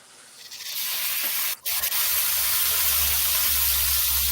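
Bok choy being stirred with sauce in a hot pan, a steady loud sizzle and hiss that drops out briefly and then resumes, with no talking.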